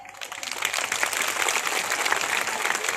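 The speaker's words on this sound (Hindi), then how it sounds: "तालियों की गड़गड़ाहट से हम पता लगा लेते हैं" Audience applause at a political rally addressed by JP Nadda, a dense, steady burst of many hands clapping that swells quickly and holds loud and continuous with no speech.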